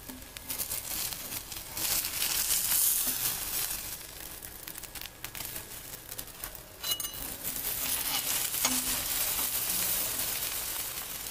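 A vegetable sandwich toasts in butter on a pan until crisp, giving a steady soft sizzle and crackle with scattered small clicks and crinkles, fairly faint and continuous, with no talking.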